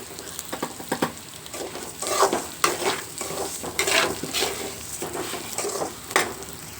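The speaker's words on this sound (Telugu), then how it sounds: "గోధుమ రవ కప్పు పోసేస్తున్నాను. అలాగా మనం ఆయిల్లో వేపుకోవాలి." Wheat rava roasts in oil in a pan, with repeated scraping stir strokes in an uneven rhythm over a soft, constant sizzle, close and fairly loud.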